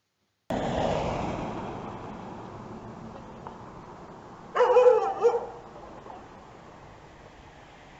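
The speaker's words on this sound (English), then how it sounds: "Just watch this video and listen to the different types of bark." Dogs bark in a short burst midway through, a few quick yaps over steady outdoor ambience, fairly close but not loud.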